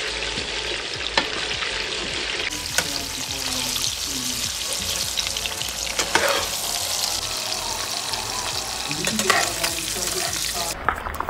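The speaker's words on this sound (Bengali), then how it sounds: "এটাকেও অল্প একটু নুন দিয়ে আমি ভালো করে ফ্রাই করে নেব।" Eggs with salt fry in a pan with a loud, continuous sizzle, with occasional scrapes and stirring knocks close by.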